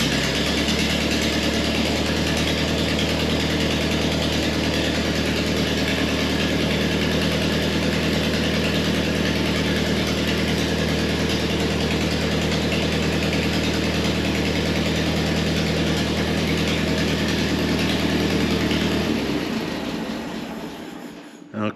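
Antique tractor engine with a rebuilt Marvel Schebler carburetor running at a steady idle, loud and continuous, with a low drone and constant mechanical clatter until it cuts off at the end.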